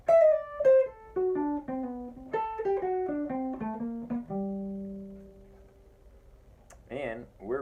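A western swing lead guitar lick steps chromatically down from E and lands on a sustained D, clean single plucked notes close and clear, followed by a short burst of other sound.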